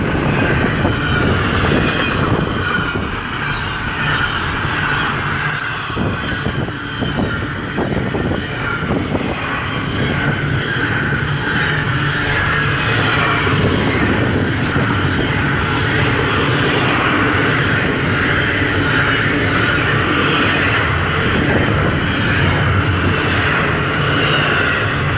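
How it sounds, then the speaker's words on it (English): Train rolling past at close range beside a freeway in Rancho Mirage, a steady, loud rumble of wheels and cars that holds for the whole stretch with no talking. "Awesome view of a train."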